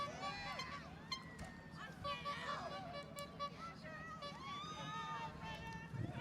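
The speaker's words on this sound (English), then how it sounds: "So the cheering you hear at the bottom are the students." Students cheering at the bottom of an Over The Edge rappel for Special Olympics Delaware, a lively crowd of young voices shouting and whooping continuously, somewhat distant, with busy chatter mixed in.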